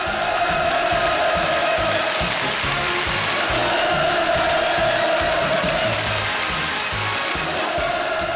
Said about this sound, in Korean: 폭풍 같은 만세 환호성이 장렬히 진감했습니다